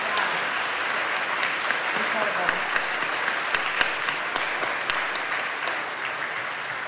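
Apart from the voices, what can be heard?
audience applause for performers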